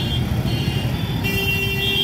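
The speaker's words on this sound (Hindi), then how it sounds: "देख रहे हैं गाड़ी धीरे धीरे गाड़ी आ रही है यहाँ पे।" Slow-moving traffic crawls through a busy crossroads in Varanasi, a steady loud rumble of engines with a faint horn tone, and no speech.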